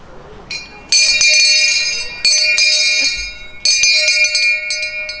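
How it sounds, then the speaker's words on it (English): A town crier's handbell rings out loud and bright at a crier competition in Tiverton, three separate bursts of clanging with short gaps between them. "Ring the bell 3 times."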